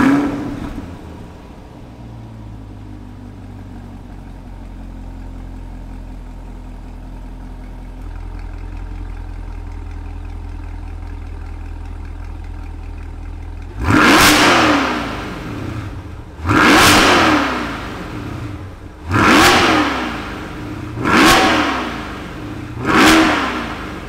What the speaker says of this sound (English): Let's go ahead and get that pushrod V8 engine fired up.